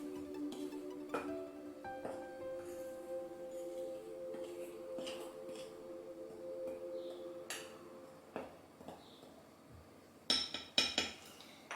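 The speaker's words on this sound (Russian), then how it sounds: "Муку с какао хорошенько перемешиваю." Flour and cocoa are stirred together in a bowl, with faint scraping and light clinks of utensil against the bowl, growing into a few sharper taps toward the end; quiet, close, no speech.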